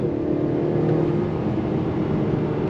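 A 2025 Acura TLX A-Spec sport sedan accelerating under throttle, a steady loud engine hum and road rumble heard from inside, building smoothly with no voices.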